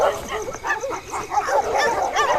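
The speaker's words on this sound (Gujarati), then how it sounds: "કૂતરું હે મારું કૂતરું" A dog lets out a run of short, close barks and yips in rapid succession, loud and uneven, with faint voices nearby.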